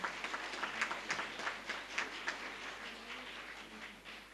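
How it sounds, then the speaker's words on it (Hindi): Audience at a food workshop in Bhopal clapping, a moderately faint patter of many hands with uneven bursts that slowly thins and fades toward the end. "जोरदार तालियां उनके लिए।"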